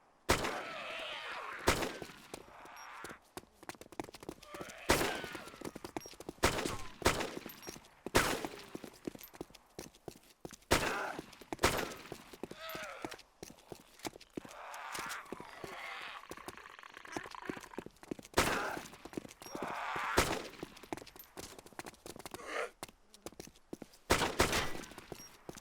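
Gunfire in the Arma 3 DayZ zombie mod, a video game: sharp, loud shots fired in irregular single bursts and clusters, spread across the clip over faint background sound.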